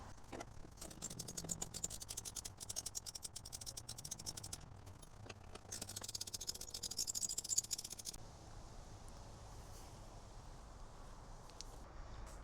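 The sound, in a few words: socket wrench removing bolts on a Fisker Ocean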